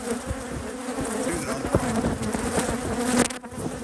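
Honeybees drone steadily at an outdoor apiary among elm and peach trees, a dense continuous buzz with individual bees zipping close past now and then, no voices.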